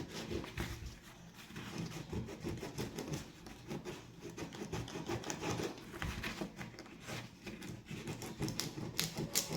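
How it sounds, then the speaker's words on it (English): Continuous gritty rasping of sanding a rubber shoe sole, close up, with uneven back-and-forth strokes and no talking. "remove all the foreign materials, dust or oils that's in this rubber by sanding it down"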